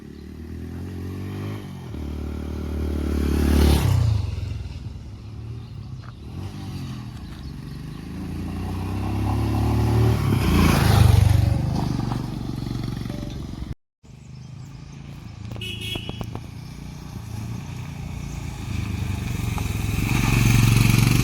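A Rider motorcycle with a helmeted rider on the road from Mysuru to Kotebetta, its loud, close engine rising and falling through revs amid rushing wind, with a brief cut midway and no talk.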